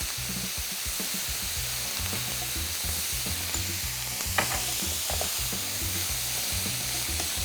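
Garlic frying in a pan with chicken sausage and zucchini: a loud, continuous sizzle with steady stirring and scraping throughout, close up and with no talk.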